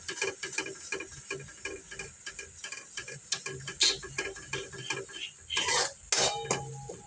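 Garlic and potatoes are stirred in oil in a pan, giving a run of quick metallic scrapes and clinks of a spoon against the pan, close and fairly quiet, with a soft frying hiss beneath.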